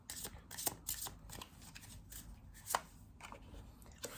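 Tarot cards shuffled by hand in a run of soft, papery brushing and riffling bursts with quick sharp flicks, close and fairly quiet, with no voices.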